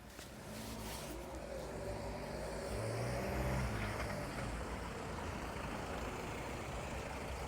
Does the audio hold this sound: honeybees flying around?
no